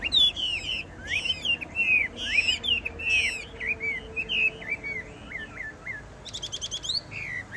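A Chinese hwamei songbird sings inside a cage that is being shaken, pouring out loud, close, varied whistled phrases and quick repeated trills, with no talking.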